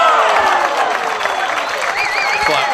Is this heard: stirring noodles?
no